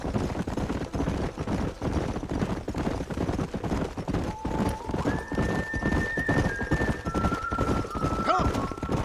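Horses in the video game Red Dead Redemption: steady clip-clop of hooves runs throughout, with a loud neigh near the end, mixed with game voices talking.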